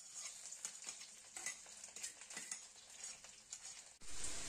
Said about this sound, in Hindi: अब हम इसमें डालेंगे अदरक लहसुन और हरी मिर्च।